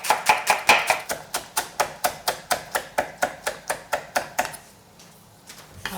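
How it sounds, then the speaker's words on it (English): A knife chopping green onions on a cutting board, about twenty quick, evenly spaced sharp knocks close up, then a brief pause before a couple of softer taps. "4 to 6 green onion, chop it up."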